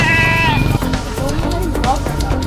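An Anglo-Nubian goat bleats with a wavering, nasal cry at the start, then a busy crowd murmurs and talks underneath for the rest, at a livestock trading market.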